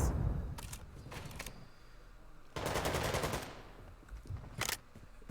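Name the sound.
gunfire in Call of Duty video game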